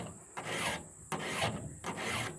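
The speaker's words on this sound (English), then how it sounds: "I can actually sharpen this like a fucking man's supposed to sharpen a damn saw" Hand file rasping across a chainsaw chain's cutters during sharpening, three steady forward strokes with short pauses between, close and fairly loud, no voices.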